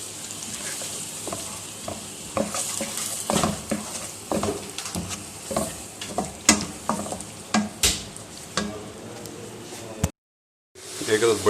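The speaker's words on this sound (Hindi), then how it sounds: "हल्का सा सौते करना है।" Mutton korma sautéing with spices in a pan, a close, steady sizzle broken by frequent scraping stirs and clinks, with a brief cut near the end.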